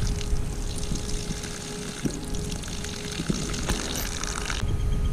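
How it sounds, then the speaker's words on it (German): Water flows slowly and steadily from an outdoor shower hose on an off-grid plot of land, a soft continuous trickle with faint knocks and clicks and no voices. "So langsam fließt es jetzt."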